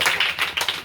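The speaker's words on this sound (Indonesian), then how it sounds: "Oke, baik, tepuk tangan buat" A classroom of students claps hands briefly, a short burst of quick, close, sharp claps.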